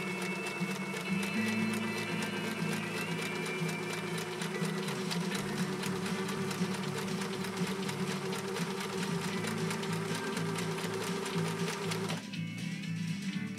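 A 1974 Kenmore 1050 sewing machine runs a blind hem stitch, its motor whirring loud and steady with a fast needle clatter for about twelve seconds before stopping abruptly.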